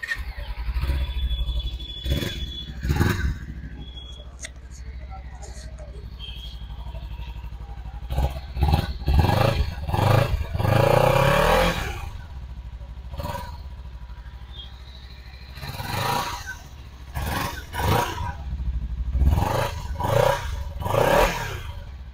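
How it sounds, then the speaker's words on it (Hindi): A 2023 Kawasaki Ninja 300 BS6 motorcycle idles up close, its engine and exhaust breaking into repeated sharp revving bursts, some single blips and some longer clustered runs, with steady idle between them. "तो गाइस अब आप लोग कावासाकी निंजा 300 का एग्जॉस्ट साउंड सुन लो"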